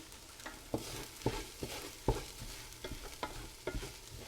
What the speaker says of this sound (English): And we can let it toast a little bit.